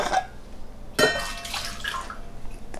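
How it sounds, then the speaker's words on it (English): Water pours out of a Yeti 12 oz stainless steel mug in two short splashing bursts with drips between, close and moderately loud, no talk. "So I'm going to pour the rest of the water out of here."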